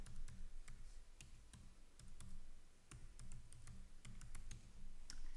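Steady typing on a computer keyboard as a website address is entered into a form, with close, quick irregular key clicks running throughout and no voices.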